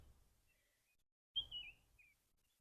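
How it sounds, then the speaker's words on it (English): Faint, thin bird chirps sound at a distance in a garden in early June, with a brighter burst of tweeting partway through against quiet background. "You can hear the birds singing."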